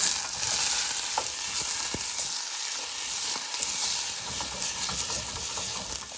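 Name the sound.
stirring drained canned beans in a pan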